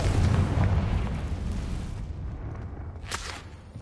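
A Confringo explosive spell blast in Hogwarts Legacy gives a heavy booming burst that rumbles and fades, with a sharp crackling pop near the end.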